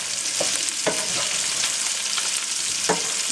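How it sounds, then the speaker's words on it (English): Garlic frying in a pot gives a steady, loud hiss, broken by a few soft scraping knocks as it is stirred. "Give that a nice stir."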